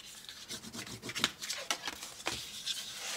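Damp paper is scored and burnished with a tool while a sprinkles holder is made, giving short dry scraping and rubbing strokes in an irregular close rhythm, quiet and without talk.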